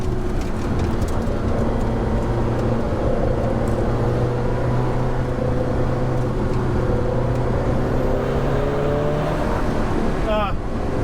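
An Alfa Romeo 4C Track Edition sports car driving on a track, its engine droning loud and steady from inside the cabin with rising and falling tones as it revs.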